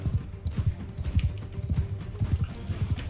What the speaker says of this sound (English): Even though I'm on this wonderful pack horse